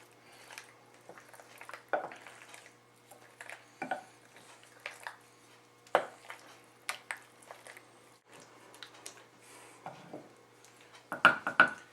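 Cooked macaroni noodles stirred together with cheese in a pot, giving irregular close wet squishes and scattered clinks of a utensil against the pot, with quiet pauses between strokes.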